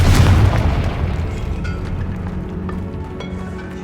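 A Confringo blasting spell in Hogwarts Legacy blows open a barricaded tomb archway with a loud, close explosion: a heavy low boom up front that decays into a lingering rumble and scattered debris.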